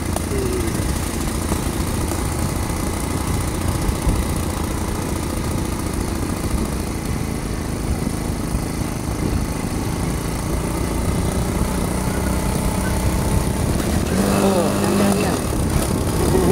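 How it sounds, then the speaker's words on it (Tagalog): A motorcycle engine brakes in a steady, close drone that hums throughout, with a brief higher tonal whine rising near the end and a voice heard over it. "Nag-engine brake ako."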